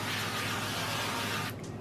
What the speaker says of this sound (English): I'm just going to use a very light spray of the avocado oil.